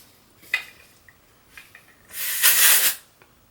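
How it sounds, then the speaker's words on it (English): A burst of texturizing aerosol hair spray hisses for about a second after a few light handling clicks, close and fairly loud. "And then I'm also gonna do texturizing spray again."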